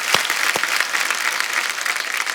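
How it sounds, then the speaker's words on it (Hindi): Studio audience applause on a comedy talk show, a loud, dense burst of many hands clapping close up, with a couple of sharp thumps near the start, sustained evenly to the end. "जोरदार तालियां"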